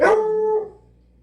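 A pet dog at home gives a single short, close bark that stretches into a brief howl, then fades to quiet.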